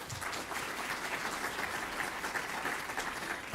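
Audience applause at an election analysis panel event, steady broadband clapping from a crowd heard at a moderate distance, fairly soft and continuous throughout.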